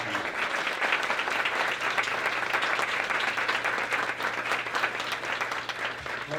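An audience applauds steadily and moderately loud at a film fundraiser event, a continuous wash of clapping hands with no talk over it.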